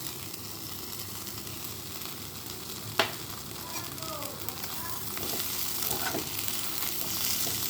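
Chowmein being tossed with tomato, soy and chili sauces in a frying pan, a continuous sizzling fry with stirring scrapes and one sharp clack of utensil on pan, swelling slightly louder near the end.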